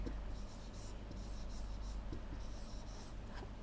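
Chalk or marker scratches out letters on a classroom board in short, faint strokes, under steady low background noise with a teacher's voice faintly present.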